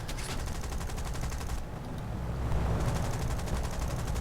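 Lancaster bomber in a realistic-mode air combat game strafing light anti-aircraft gun positions: rapid continuous machine-gun fire over heavy engine drone, briefly easing before a louder sustained burst, close and with no talk.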